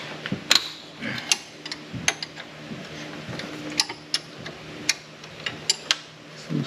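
A ratchet wrench loosens a bolt near the serpentine belt pulley of a 2013-2014 Honda CR-V during alternator work. It gives a fast run of sharp, close metallic clicks in an uneven rhythm.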